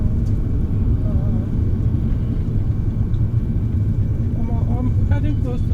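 A Peugeot 505 car driving along an expressway into Kaduna, with a steady low engine and road rumble throughout and faint tonal sounds near the end.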